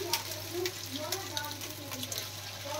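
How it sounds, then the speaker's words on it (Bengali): Chicken pakora fries in hot oil in a wok, a soft steady sizzle and bubbling heard close up, with a low hum underneath and a voice talking over it. "সেকেন্ড ব্যাচ চলে যাচ্ছে পকোড়া, কড়াইতে ঝাঁপ দিল"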